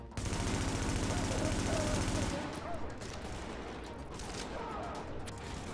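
Blind-fire gunfire in The Division: a loud, steady burst of rapid automatic shots lasting about two seconds, then a quieter patch of scattered shots and ambient game noise.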